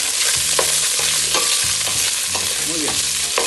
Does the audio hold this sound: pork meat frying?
yes